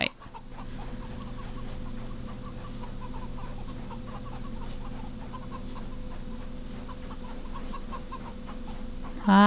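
Soft, repeated clucking from chickens in the video game CHKN, running steadily over a low droning game background, with a louder burst at the very end.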